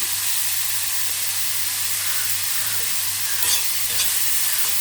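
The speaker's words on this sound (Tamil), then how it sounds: "அதில் இருக்க ஈரத்தன்மை போகிற அளவுக்கு நல்லா வறுக்கணும்." Grated radish dry-roasting in a pan over low heat while being stirred, a continuous close hiss and sizzle with soft scraping strokes and a low steady hum underneath.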